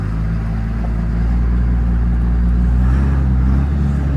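A 2nd gen Cummins 24V P-pump diesel in a truck idles steadily before reaching operating temperature, a deep constant rumble close by with no revving.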